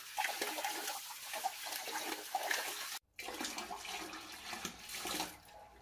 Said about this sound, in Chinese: 最后呢，就是把上面这个哈储存垃圾的东西呢，拿清水冲洗完了